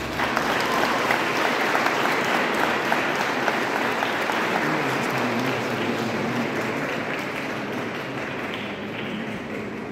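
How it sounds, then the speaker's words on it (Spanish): An audience at a Christmas concert marking 800 years of the first nativity scene, in Tarata, Cochabamba, applauds in a long, dense wash of clapping that fades gradually toward the end. "Y fuerte aplauso todavía a todos ustedes."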